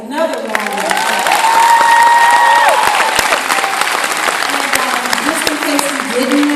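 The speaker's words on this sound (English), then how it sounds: "Did you give her another round of applause?" Audience applause at a university graduation ceremony, dense sustained clapping throughout, close and loud, with a voice speaking over it partway through.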